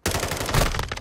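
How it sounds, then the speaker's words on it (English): Pistol gunfire in Call of Duty Modern Warfare II, a dense, loud run of rapid shots starting abruptly and continuing in quick succession for about a second. "buddy's shooting at us with a pistol"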